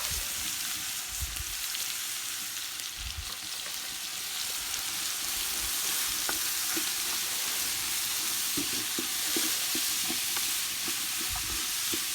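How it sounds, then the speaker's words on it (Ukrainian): Chopped onion sizzling and frying in rendered pork fat in a pan, a steady close crackle with occasional stirring scrapes, no voices over it. "а зараз всипаємо до того стопленого цибульку"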